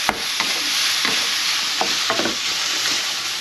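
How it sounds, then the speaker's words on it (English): Diced beef frying and browning in a pan: a steady, close sizzle with light scraping stir noises scattered through it, and no voices. "So I'm also going to fry up some diced beef I've got here, just to give that a quick browning"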